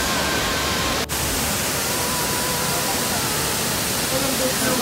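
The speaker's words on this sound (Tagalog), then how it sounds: "Touchdown, Kawasan Falls." Constant broadband roar of Kawasan Falls in Cebu, a waterfall rushing steadily and close by after canyoneering, with a brief dip near the start and no clear talking.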